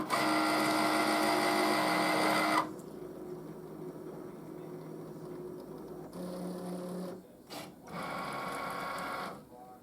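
Cricut Maker machine detecting before engraving acrylic: a loud whirring motor run that stops abruptly, then quieter low hum with later mechanical whirs and brief clicks.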